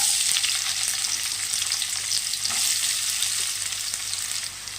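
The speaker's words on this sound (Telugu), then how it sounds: "ఇలా ఉల్లిపాయ ముక్కలు యాడ్ చేసి చక్కగా మనము దోరగా ఫ్రై చేసుకుందాం" Onion pieces frying in hot oil in a pan for chicken semiya, a continuous close sizzle with light stirring scrapes, steady throughout with no voices.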